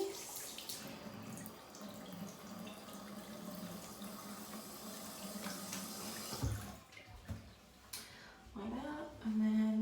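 A bathroom tap runs into a sink while someone dampens their face, giving a steady close splashing stream with water-movement noises that break up toward the end and a brief squeak as the flow changes.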